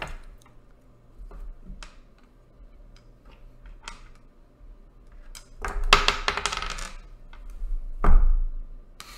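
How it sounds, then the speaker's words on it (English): Small dice clatter and tick in quick irregular bursts as players race to stack them on rulers held in their mouths, light sparse clicks building to two louder, busier clusters near the end. "we're going to try to stack the dice on the rulers"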